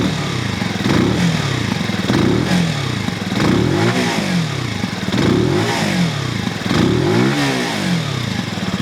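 A 2022 MASH X-ride 125 motorcycle's small single-cylinder Euro 5 engine runs close by, blipped through repeated rising and falling revs in a steady rhythm, with no talking.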